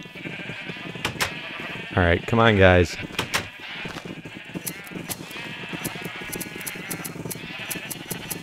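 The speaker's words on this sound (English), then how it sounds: "We are going to ravage all these sheep." Sheep in the Minecraft video game let out one loud, wavering bleat amid a flock, with clicky game sounds around it and someone speaking briefly.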